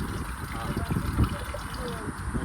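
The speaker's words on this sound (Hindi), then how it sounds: "ये मेरा पानी जुगाड़ सही है ना?" Water trickling from a makeshift water setup at a campsite, a steady thin stream under low background rumble, close and continuous, with a brief voice partway through.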